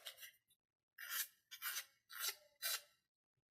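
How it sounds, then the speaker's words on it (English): Five short abrasive rasping strokes, like a sanding stick worked against an edge, with brief pauses between them; close and fairly quiet. "take this sanding stick here and it will take"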